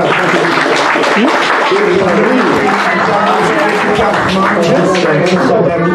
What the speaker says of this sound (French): Applaudissez-les, chers